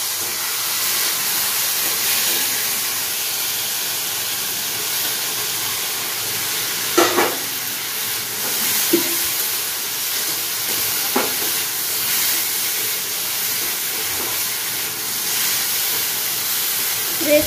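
Prawns hit a hot pan and settle into a long, even sizzling hiss that continues steadily, with a few faint clinks of a utensil against the pan in a home kitchen.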